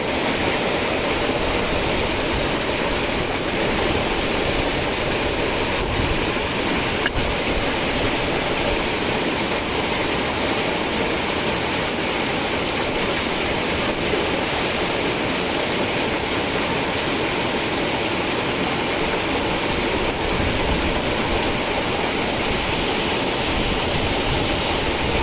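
Water roars through the opened spillway gates of a dam, a loud, dense, unbroken rushing torrent that holds steady throughout with no voices over it.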